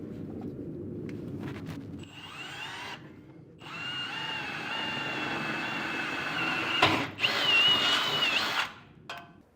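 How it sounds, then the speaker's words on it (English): A power drill bores up through the steel bed of a 2019 Chevrolet truck while fitting a B and W Turnoverball underbed gooseneck hitch, whining in sustained bursts with short pauses and a final spin-down, no talking. "I'm going to use a drill bit and drill up through them, using them as guides through the bed of our truck."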